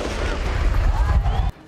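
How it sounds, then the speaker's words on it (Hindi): Police firing shots into the air to disperse a crowd of protesters throwing stones at a market in Mumbai, a dense, loud barrage of cracks and booms with crowd noise and a voice underneath, cutting off abruptly. "पुलिस को हवा में गोलियां चलानी पड़ी"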